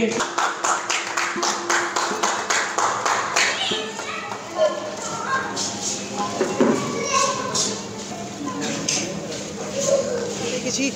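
Applause at the Pride of Raniganj award ceremony: a crowd claps loudly in a quick, even rhythm for a few seconds, then it fades into murmuring chatter and a voice over a microphone.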